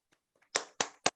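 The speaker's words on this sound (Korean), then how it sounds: "다 같이 한번 박수 한번 크게 한번 치고 시작을 하겠습니다" Three sharp claps in quick succession from an audience at an education forum, fairly quiet, with faint murmurs just before them.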